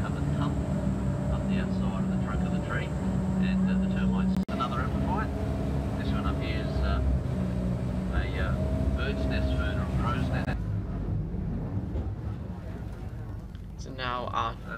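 Steady engine drone of an amphibious wildlife tour vehicle driving into water near Cairns, with a wash of water noise and people talking over it; the motor eases off near the end.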